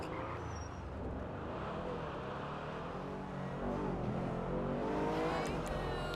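Annis Hellion car engine starting up in Grand Theft Auto V, a low continuous rumble that swells as it settles into a steady idle from inside the vehicle.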